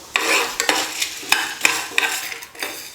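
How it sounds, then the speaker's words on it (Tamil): A spoon stirs fenugreek, lentils, coriander seeds and red chillies as they dry-roast in a pan, giving loud, close, rhythmic scraping strokes about twice a second over a faint sizzle. "எல்லாம் சேர்த்து நல்லா வறுத்துக்கலாம்"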